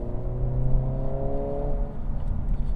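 A 2022 Honda Civic Si engine rev matching while driving: a steady close engine drone with a brief rise and fall in revs, heard from inside the car with no talking.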